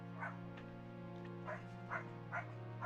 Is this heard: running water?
no